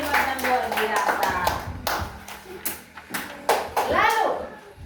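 First-grade children clap in a classroom, a loose burst of hand claps with a few sharp taps, mixed with children's voices chattering throughout.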